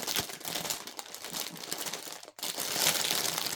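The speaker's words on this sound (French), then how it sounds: "Désolée pour le bruit de plastique" Close, irregular crinkling and rustling of plastic packaging, with a brief pause before the crackling resumes, no speech.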